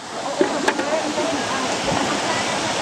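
Water is scooped from a natural mountain source, a continuous rushing flow of water close by with a few soft splashes and knocks, while people talk over it.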